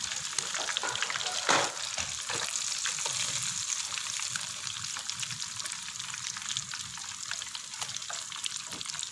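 Fish sizzles steadily in oil over a low flame, a close, even crackle with occasional stirring scrapes and no talking.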